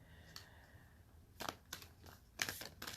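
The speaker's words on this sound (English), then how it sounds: "Let me get some shuffles in here." Tarot cards being shuffled by hand, giving three or four short, crisp riffling bursts of card noise spaced about a second apart, close and fairly quiet, with no talking.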